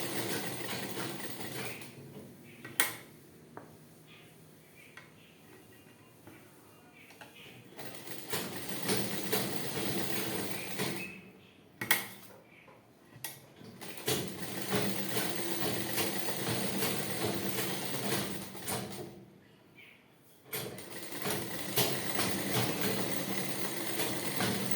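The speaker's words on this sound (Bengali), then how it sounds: "এরপরে কিন্তু আমি 4 সাইড সেলাই করে নিচ্ছি" A sewing machine runs steadily while stitching all four sides of the front panel of a blouse, a close mechanical whirr with a couple of brief pauses between runs of stitches.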